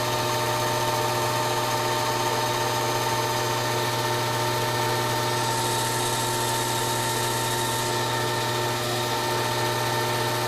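A drill bores a hole in a metal part with a steady, loud mechanical drone and hum, unchanging throughout, with no voices.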